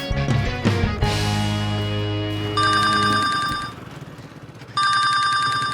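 A loud electronic telephone ring in two bursts, a trilling bell-like tone repeating, preceded by a sustained synthetic chord; close and clear, no talking.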